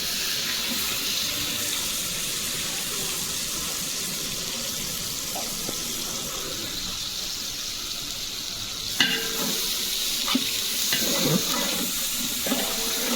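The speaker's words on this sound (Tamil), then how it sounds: "வெங்காயமும் இஞ்சி பூண்டு விழுதும் நல்லா மிக்ஸ் ஆகி சூப்பராக வதக்கிற வரைக்கும் வெயிட் பண்ணுங்கள்" Onion with ginger-garlic paste sautéing in a large pan for chicken biryani, a steady dense sizzle with scraping stir strokes that grow louder and clatter after the midpoint, no voices.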